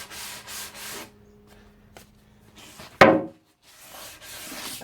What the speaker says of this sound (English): Just go ahead and make sure I sand the sides too